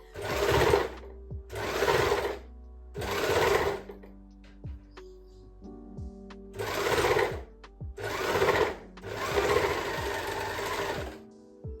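Overlocker stitching a skinny scrunchie, six short bursts of rapid whirring and clatter separated by quiet pauses, close and clear with no voices.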